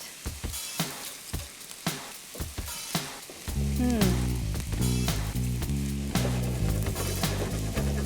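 Food sizzles and fries in a hot pan: a few scattered crackles at first, then a loud, dense, steady hiss of frying fat that holds for several seconds, close up, with no speech.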